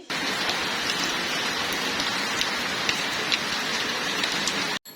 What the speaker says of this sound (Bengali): বৃষ্টি হচ্ছে বৃষ্টি কিন্তু ভালো লাগে